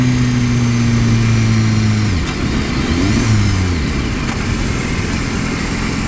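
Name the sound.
2015 BMW S1000RR motorcycle accelerating using the quick shifter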